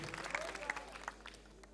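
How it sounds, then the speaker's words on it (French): A studio audience at a Cameroonian television comedy show claps for a young performer, a soft, scattered patter of many hands with a few sharper individual claps, faint and distant throughout. "On applaudit encore Chérubin, s'il vous plaît"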